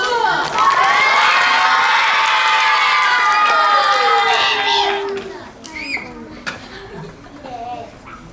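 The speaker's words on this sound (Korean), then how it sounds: "자, 박수!" A crowd of schoolchildren at a school fair event bursts into loud, high-pitched cheering and shouting for about five seconds, then it fades into scattered voices and a few shouts.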